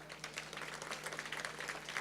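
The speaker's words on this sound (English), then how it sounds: "Let's just give him a round of applause for that" Steady applause from a distant crowd, a soft continuous patter of many hands clapping with no clear rhythm.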